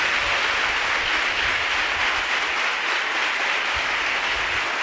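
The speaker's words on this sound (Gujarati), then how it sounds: "તાળીઓ વગાડો છો તો મોટા અવાજે તાળીઓ વગાડો." A church congregation at a golden jubilee celebration in Kosimada applauds: dense, sustained clapping from many hands, loud and even for the whole stretch with no voices over it.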